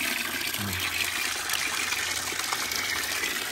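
Water gushes steadily from a tap at a campground water station by Waskesiu Lake in Saskatchewan, a loud continuous rushing stream close by.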